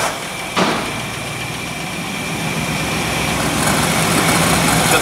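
The engine of a 1958 Ford Ranch Wagon keeps running just after a start with an old, oversized starter, a steady rough idle with a brief sharp burst near the start.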